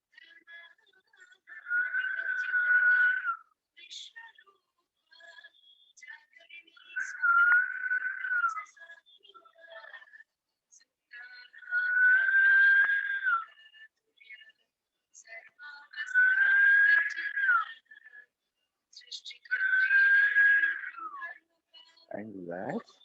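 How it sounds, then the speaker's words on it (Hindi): Five long, soft whistled breaths out through the mouth, each a few seconds, evenly spaced with quiet pauses between, ending in a brief low sound. "नासिका से श्वास लेंगे और मुंह से सीटी बजाते हुए श्वास छोड़ेंगे"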